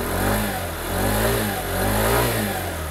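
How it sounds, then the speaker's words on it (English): A 2019 Sym Symply 50cc four-stroke scooter engine runs close by in a steady, smooth drone, swelling and easing in gentle rev cycles with no voices over it. "The engine's running now, so it's ready to go, ready to be ridden."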